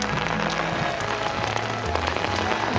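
Heavy rain pours over a park as a dense, steady hiss and patter that stays constant throughout, with no voices.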